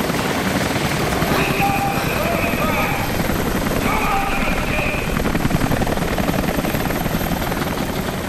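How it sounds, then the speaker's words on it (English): Steady thumping rotor roar of a helicopter in the video game Rise of the Tomb Raider, loud and close throughout, with voices faintly mixed in. "Escape the helicopter?"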